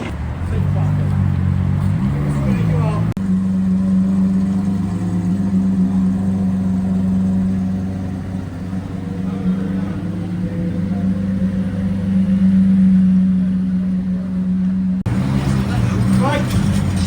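A classic car pulling away at a collector car show and auction in Paris, its engine a deep steady rumble with a low drone that holds, then fades as it leaves, under crowd babble and nearby talk.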